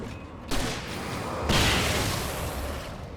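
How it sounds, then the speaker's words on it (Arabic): Weapon fire in the video game Alan Wake Remastered: two broad, booming bursts about a second apart, each trailing into a long noisy wash, fairly loud with no speech over them. "حلوة دي، طلقة واحدة وخلاص"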